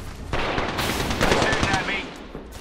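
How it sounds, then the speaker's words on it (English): Automatic weapon fire from Apex Legends combat, dense bursts of gunfire with sharp cracks and bright impact sounds, loud and close, running continuously through the clip amid other game effects. "I'm under fire."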